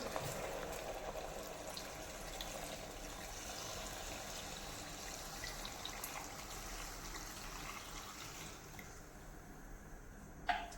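Hot water is poured into a spiced goat head curry masala in a cooker, a steady liquid rush that runs for about ten seconds and ends with a brief clink.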